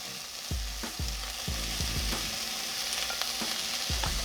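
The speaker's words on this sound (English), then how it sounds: "We're going to go ahead and add those to our pan." A frozen blend of corn, peas and green beans sizzles in a pan for fried rice, the steady hiss broken by repeated low thumps and scrapes of stirring, close and alone.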